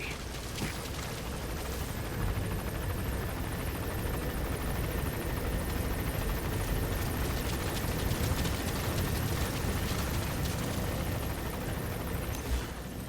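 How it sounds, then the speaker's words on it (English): A helicopter arriving in the video game Metal Gear Solid V: The Phantom Pain, a steady, sustained rotor drone mixed with rumbling noise that holds at a fairly even level throughout, with no voices over it. "The chopper will be arriving any minute."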